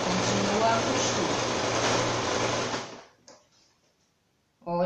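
A sewing machine stitching a quilted placemat runs in a steady, continuous whir for about three seconds, then stops as the needle is lowered and the work turned, with a brief burst of stitching resuming at the end.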